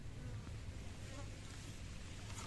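Mosquitoes buzz around someone fishing by the water on a hot day, a faint, steady insect drone mixed into soft outdoor noise, with no talking.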